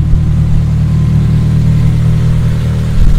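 A car engine runs loud and close, a steady low rumble that swells slightly near the end as it is revved, with no talking over it.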